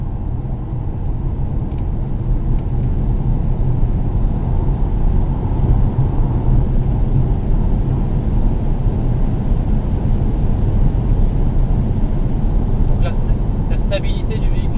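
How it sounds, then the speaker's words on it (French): A Polestar 2 electric car runs flat out toward top speed on a German autobahn, heard as a steady, loud broadband rush of road and wind noise with no engine note, a few faint clicks near the end. "on va se lancer pour la VMAX. On est sur autoroute allemande"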